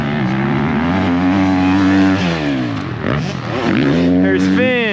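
A motocross dirt bike runs a lap over the triple jump at County Line MX, its engine revving loudly and shifting pitch as it climbs and drops, with a voice talking over the engine.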